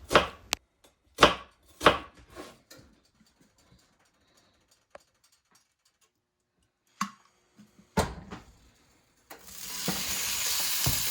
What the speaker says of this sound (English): you're going to peel your onions and we're going to slice them up